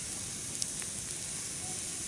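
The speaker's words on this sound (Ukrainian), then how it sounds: "горить наше вогнище," A bonfire burns outdoors at dusk with a steady broadband hiss and crackle, plus a few faint pops, continuous and moderately close, with no voices.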